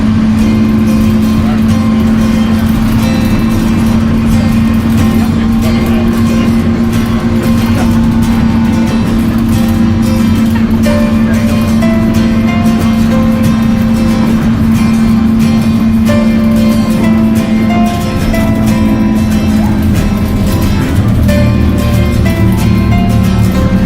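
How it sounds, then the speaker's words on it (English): A bus drives along a road on Put-in-Bay island toward a hotel, its engine humming steadily and loudly up close for the whole stretch, with a slight shift in tone near the end. "We're on the bus headed to the hotel."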